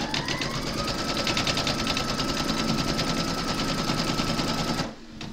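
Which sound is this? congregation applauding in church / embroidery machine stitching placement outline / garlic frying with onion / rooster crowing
embroidery machine stitching placement outline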